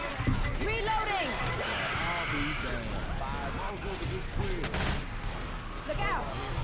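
Gunfire in Left 4 Dead 2, with repeated overlapping shots forming a dense, steady barrage of fairly loud fusillade that runs throughout, mixed with game noise while people talk over it.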